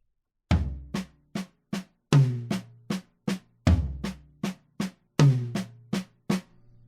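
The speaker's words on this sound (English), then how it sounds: "a nice basic example of a fill with the paradiddle is moving our right hand onto the low" A single-paradiddle drum fill, right hand on the low tom and left on the high tom, struck in a steady quick pattern with some beats accented, resonant and close, no voices.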